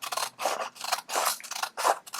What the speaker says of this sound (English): we're going to take the scissors and we're going to cut both layers like this